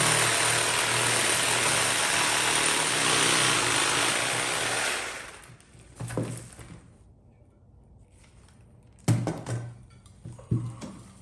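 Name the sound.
small 12-volt sawzall cutting bonsai root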